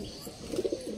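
A female tippler pigeon at a pigeon sale gives a short, soft coo, a brief low burble of a few pulses rising over faint background noise.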